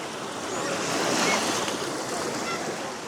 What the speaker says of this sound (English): Because of the breakwaters out in the ocean, the surf here is usually quite gentle